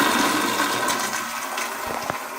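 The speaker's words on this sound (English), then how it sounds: "this is a very high pressure flush" A high-pressure toilet flush in a house bathroom, a loud, steady rush of water right up close that carries through the whole stretch and only slightly tapers.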